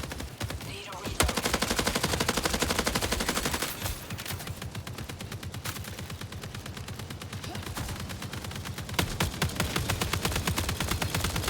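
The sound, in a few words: LMG machine gun firing in the video game Marathon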